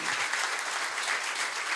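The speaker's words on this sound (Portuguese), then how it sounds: "Uma salva de palmas para Jesus." A church congregation claps together in steady, dense applause at a men's service in Santo Amaro, São Paulo, an even wash of hand claps with no voices above it.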